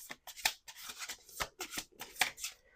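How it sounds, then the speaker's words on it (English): A deck of playing cards shuffled by hand, a run of quick crisp riffles and soft rubbing bursts in an irregular rhythm, close and fairly quiet, with no talking. "2 more shuffles."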